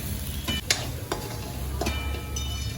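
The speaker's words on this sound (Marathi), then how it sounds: "आता भाजी चांगली परतवून घ्यायची" Vegetables stir-fried with red chili powder in a pan give a continuous sizzle close by, with a few quick scraping strokes of a spatula cutting through; no voices.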